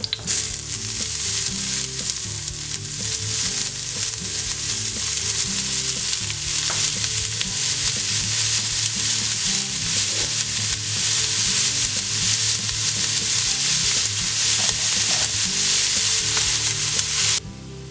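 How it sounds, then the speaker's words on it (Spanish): Onion drops into hot oil in a pan for tomato sauce and fries loudly and continuously, a dense, close sizzle with scattered crackles that runs unbroken for nearly eighteen seconds. "el aceite ya está, así que ponemos la cebolla dentro"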